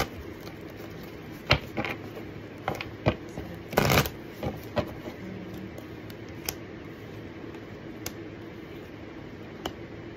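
Tarot cards being shuffled by hand, heard as crisp riffles and sharp snapping bursts scattered across the stretch. The busiest flurry comes in the middle, over a faint steady room hum, with no talking.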